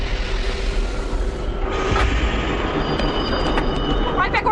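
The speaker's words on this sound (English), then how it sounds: "The train seemed to actually be coming to a stop." A train rumbles as it slows toward a stop, with a steady rolling drone, a clank, and high wheel squeals toward the end, heard from on board.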